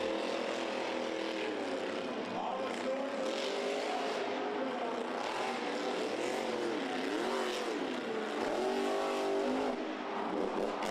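Monster Jam monster truck engines roaring in a stadium arena, a constant loud revving drone with rising and falling pitch swells across the whole stretch, crowd-filled space behind it.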